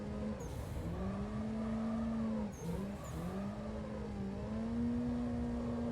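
A simulated car in a racing game runs at a steady, loud engine whine while drifting on a straight, the pitch dipping briefly twice as revs drop and climb again, with no talk.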